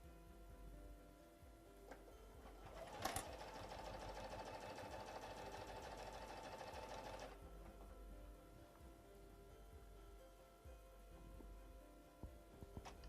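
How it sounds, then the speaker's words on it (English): A sewing machine stitches binding onto a small quilt in one steady, rapid run of a few seconds, preceded by a brief clunk as the presser foot drops, then quiet room tone. "I'm going to put my presser foot down, and I'm going to continue sewing."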